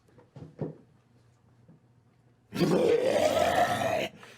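A voice imitates a terrible guttural monster roar during a tabletop game session, one long loud rasping growl lasting over a second after a few quiet breathy sounds.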